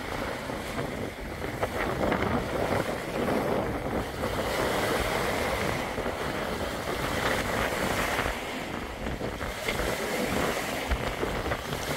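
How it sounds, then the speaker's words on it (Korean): Swell waves roll and wash continuously against the seashore under gusting wind, a broad steady roar of surf with wind buffeting the microphone throughout. "이 파도는 너울성 파도라고 해서 먼 바다에는 포말이 안 보이죠?"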